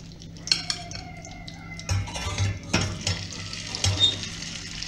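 Grated potato pancakes (draniki) frying in hot oil, a steady close crackling sizzle punctuated by utensil scrapes and clinks against the pan.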